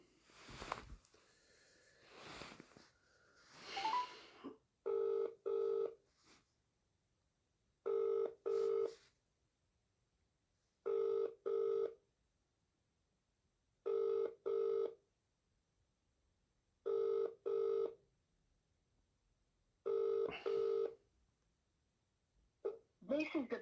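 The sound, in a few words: outgoing phone call ringing on mobile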